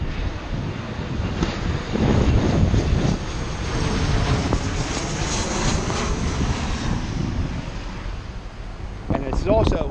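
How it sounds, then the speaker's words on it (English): An airplane engine roars steadily overhead at Fort Mifflin, a broad rushing drone that stays loud throughout, with wind buffeting the microphone and a brief voice near the end. "planes go 100 miles an hour"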